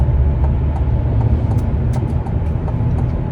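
A 2023 Chevy Colorado Trail Boss pickup, its transmission just repaired, creeps through traffic in low gear, with a steady low engine and road rumble heard from inside the cab and no talking.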